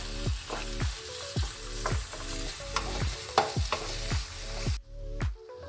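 Tomatoes and green chillies sautéing in a pan for Kerala-style egg biryani: a continuous bright sizzle with regular, rhythmic stirring strokes about every half second, close and fairly loud, cutting off near the end; no talk.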